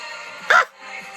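A dog lets out a single short, sharp bark or yip, loud and close, against a quiet background.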